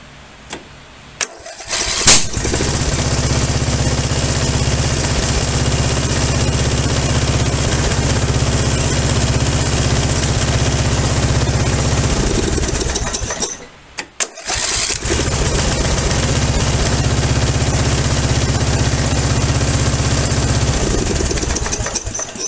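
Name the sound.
Briggs & Stratton engine starting and running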